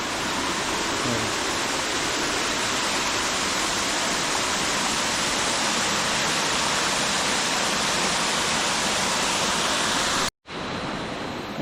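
Small hillside waterfalls rushing in a steady, dense roar that fills the whole scene without pause, heard close up, before a brief cut near the end.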